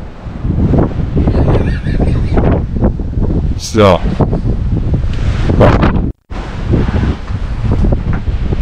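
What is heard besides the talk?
strong wind on a mountain hike in Scandinavia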